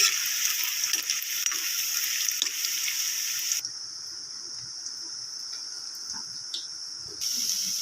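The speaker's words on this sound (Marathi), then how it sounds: "मीडियम गॅसवर तळून घ्यायचं आहे, अजून कच्चं वगैरे राहिलं नाही पाहिजे" Pieces for a kaju paneer gravy fry in hot oil on a medium gas flame. A bright, close sizzle hisses steadily, drops away briefly midway, then surges back near the end.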